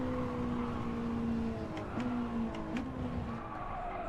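Race car engine in Gran Turismo 7 holding a steady tone through a corner while the tires squeal and skid, with brief screeches near the end; close and continuous, with no talking.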